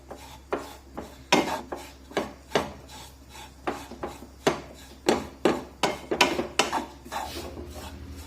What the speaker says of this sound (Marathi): या ज्या पिठाच्या गाठी बनवून तयार झाल्यात ना त्या सुद्धा आपल्याला मोडून काढायच्या आहेत आणि पीठ अगदी व्यवस्थित भाजून घ्यायचंय